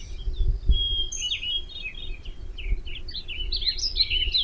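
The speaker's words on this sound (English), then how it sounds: "Imagine hearing birds in the near trees." Birds sing in nearby trees beside a green meadow, with scattered high chirps and twittering phrases over a quiet background and a few soft low thumps.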